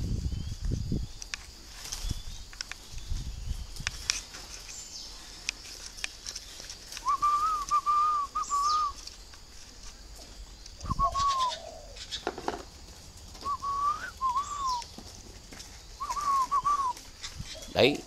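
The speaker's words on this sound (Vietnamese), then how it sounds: "tôi sẽ để hai con này đây cho nó gù nhau nghe cho nó vui tai" Two spotted doves in a netted enclosure trade soft, repeated cooing phrases in short bursts, with someone talking intermittently nearby.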